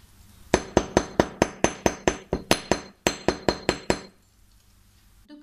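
Fourteen sharp, ringing metallic strikes of a hammer's flat face flattening a spiral of aluminium wire for earrings, fast and even in two close bursts, loud and near with a brief pause between runs.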